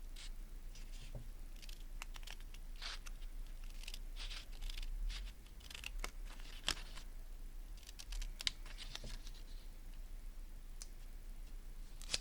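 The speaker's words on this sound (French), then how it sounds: "je vais le faire avec le ciseau" Scissors snipping through paper or card, a quiet series of short irregular crisp snips and rustles at close range, with no talking.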